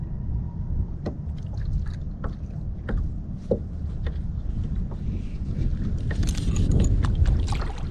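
Kayak paddling on Hunter Creek: regular soft splashes of paddle strokes about once a second over steady low wind rumble, with a brighter watery swirl near the end.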